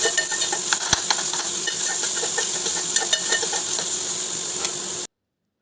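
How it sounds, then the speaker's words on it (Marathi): Green chillies and onion frying in hot oil for a spicy dried bombil curry, a continuous close sizzle with occasional light stirring clicks and one sharp knock, ending abruptly in silence. "सर्वात आधी मिरची आणि मग कांदा छान तेलात परतून घेऊया, अगदी नरम पडेपर्यंत."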